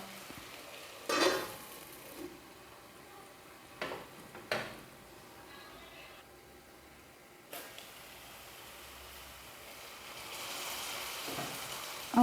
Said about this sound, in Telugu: మన ఈ అల్లం వెల్లుల్లి పేస్ట్ ఒక 1 నిమిషం పాటు ఆయిల్లో ఫ్రై అవనిద్దాం.